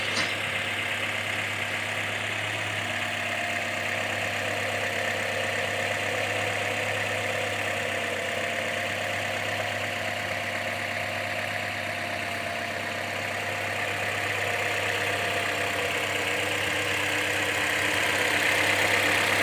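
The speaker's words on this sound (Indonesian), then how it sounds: "di dalam kap mesin ini masih terdengar suara mesinnya aja gitu ya" An ex-taxi car engine idles under the open hood, giving a smooth, steady low hum with a faint mechanical whir, heard close and fairly quiet with no talking over it.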